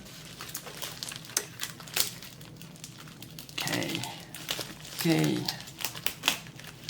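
Crinkling and snipping of diamond painting packaging being cut open with scissors up close, with sharp clicks and rustles, and a voice speaking briefly between them.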